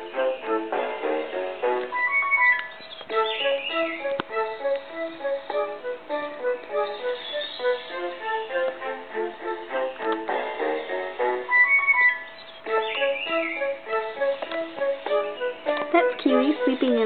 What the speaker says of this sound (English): And that sound is my songbird stereo.